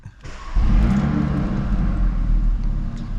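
An Audi RS3 Sportback engine cranks and fires up with a deep, throaty burst, then settles into a loud, rumbling idle close by.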